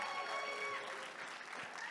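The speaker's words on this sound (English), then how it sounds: "a round of applause for Mr. and Mrs. John Lambert here at the wedding table" Wedding guests applauding, a brief, dense patter of many hands clapping at moderate distance, fairly quiet and continuous.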